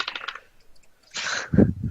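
Dice tumble onto a table during a tabletop role-playing one-shot: a light patter of small clicks, a short pause, then a brisk rattling clatter as several dice land and settle close by.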